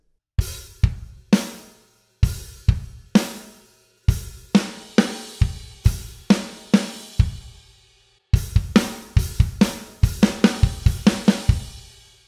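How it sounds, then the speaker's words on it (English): Sharp snare drum and crash cymbal hits from a drum part for a song, struck in short rhythmic groups of three to five strong accents with brief ringing decays, loud and close with no talk. "there's some hits on the snare drum and crash cymbal"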